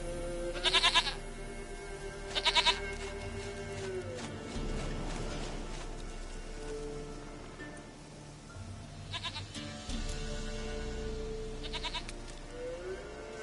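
A goat in The Witcher 3 video game bleats in short, bright harmonic bursts at scattered intervals, with a quieter ambient game soundscape and low rumbles between calls.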